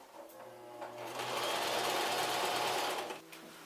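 A sewing machine stitches merino wool locks onto a base yarn, a close, steady whirring burst that swells for about two seconds before stopping.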